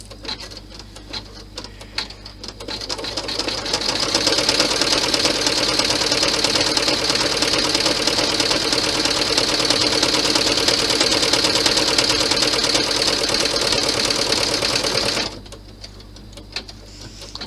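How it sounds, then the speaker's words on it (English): A sewing machine stitches fabric for a compact bag, running in one steady, fast, whirring and ticking stretch of about twelve seconds, starting after a few handling clicks and stopping abruptly. "And stitch all the rest of it down."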